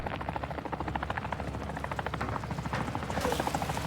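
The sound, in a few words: helicopter flying in from the video game Call of Duty Warzone 2.0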